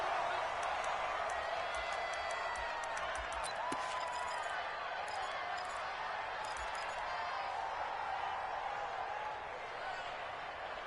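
Stadium crowd in an NFL video game, Miami Dolphins against New England Patriots, a steady wide roar of cheering and chatter that holds across the whole stretch with no single standout burst.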